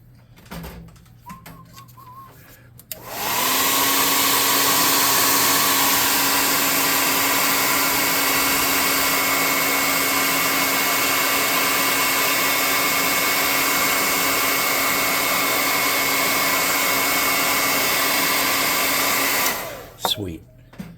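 Hair dryer blowing continuously for about sixteen seconds on a painted ore node model, a loud steady close whoosh with a constant whine, preceded by faint handling sounds.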